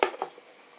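A plate is set over a baked cabbage pie in its pan, giving a quick pair of light ceramic-on-metal clinks at close range that fade into quiet kitchen background.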